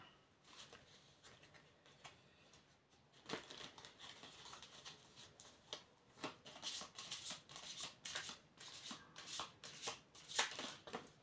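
Tarot cards being shuffled by hand, soft close riffling and papery flicks building into quicker bursts, quiet and intimate, with cards slipping loose.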